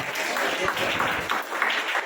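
A church congregation claps together during a Hindi Christian service, a loud, continuous patter of many hands with faint voices mixed in.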